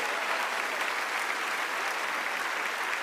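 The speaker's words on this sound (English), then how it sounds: "Can we give these 7 people a big round of applause?" An audience applauds seven volunteers at a keynote talk, a dense, sustained round of clapping filling a large room at an even, full level from start to finish.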